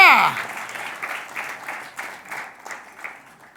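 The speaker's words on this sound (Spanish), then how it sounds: "denle un buen aplauso al Señor" A church congregation applauds during a sermon, heard as a moderate wash of clapping that sits under the tail end of a speaking voice and then keeps going in softer, uneven bursts.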